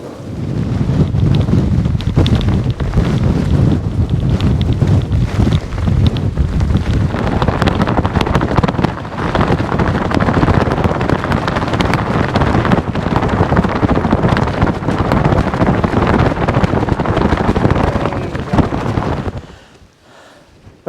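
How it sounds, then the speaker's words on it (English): Heavy wind buffeting the microphone on a Scottish coastline, a loud continuous roar with gusty rumbling, stopping abruptly near the end. "It's dead windy, so excuse the noise."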